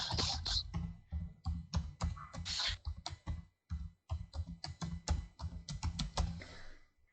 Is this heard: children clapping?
no